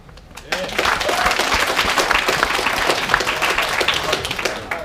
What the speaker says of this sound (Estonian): Palun andke aplaus